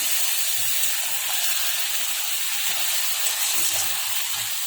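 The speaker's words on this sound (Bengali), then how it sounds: "আমি এখন এই যে একটুখানি জল দিয়ে দেবো" Water added to okra frying in a pan sets off a steady, bright hiss of steam and sizzle that holds at an even level throughout, with faint low knocks underneath.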